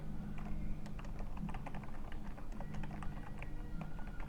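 Steady rapid typing on a computer keyboard, dense clicky keystrokes at close range with an even rhythm throughout, over a low background hum and no talking.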